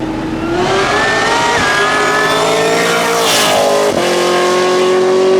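A 1000 hp Cadillac CTS-V sedan with meth injection and no catalytic converter, its loud exhaust droning and rising in pitch as the engine revs steadily up and down, close and continuous.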